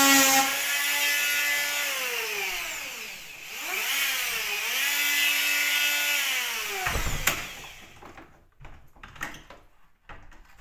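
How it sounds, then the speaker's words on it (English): A power sander works on wood with a whining motor that rises and falls in pitch for about seven seconds, then stops, followed by scattered knocks and handling sounds. "You'll have to sand it. Okay, I'll get my sander."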